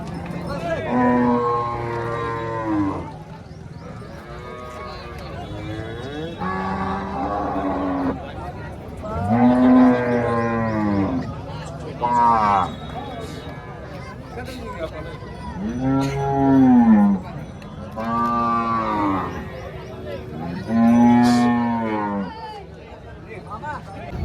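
Several long, loud Holstein Friesian cattle moos follow one another close by at a cow market in Chalisgaon, with crowd chatter and talking underneath.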